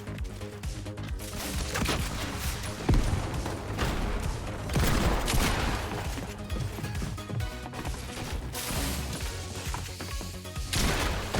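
Dense, continuous bursts of explosions and gunfire fill a Fortnite OG match as a player fires double grenade launchers, crashing blasts piling over one another without pause, loud and close throughout.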